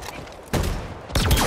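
Bursts of gunfire from the sci-fi shooter Halo Infinite in co-op play, two loud broadband volleys sounding in quick succession, close and dense, with no talk over them.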